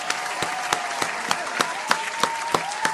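An audience claps steadily, a continuous patter of applause with crisp individual claps recurring at a regular pace, moderately loud, over a faint sustained tone in the background.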